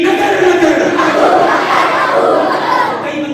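A large crowd chants religious slogans in loud unison, voices massed and continuous, close and dominating throughout.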